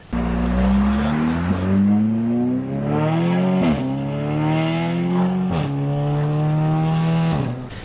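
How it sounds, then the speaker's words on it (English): An Audi A3/S3 engine with aftermarket exhaust and downpipe revs hard with a raspy, droning exhaust note, its pitch climbing and dropping repeatedly as the throttle is blipped, loud and close. "these cars do not sound the best when you put aftermarket exhaust with the downpipe"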